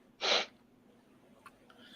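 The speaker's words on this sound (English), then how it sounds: "blow my nose into my hat" A single short, loud, wet nose blow into a hat, close to the microphone, followed by a couple of faint small clicks and rustles in a quiet room.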